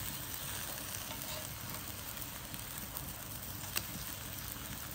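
Finnish muurinpohja pancakes frying on a large round wall-type griddle pan outdoors in Sonkajärvi, a constant dense close sizzle with a faint tap or scrape.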